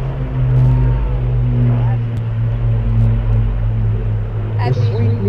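Deep, steady drone of an Avro Lancaster WW2 bomber's four propeller engines running together at an airshow, a loud continuous rumble with a constant low throb.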